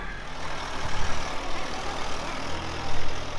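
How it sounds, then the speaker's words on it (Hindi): A JCB excavator loads sand into a tractor on a pilgrims' path, its diesel engine rumbling and idling steadily at moderate loudness with slight surges, no voices over it. "जेसीबी से इस प्रकार से ट्रैक्टर में डाला जा रहा है।"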